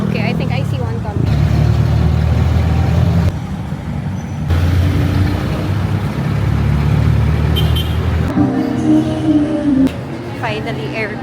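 A jeepney approaches along a busy city street, its engine rumble and traffic noise swelling loud and close over continuous roadside din, with people talking nearby.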